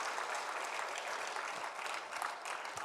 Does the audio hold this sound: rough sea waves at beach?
no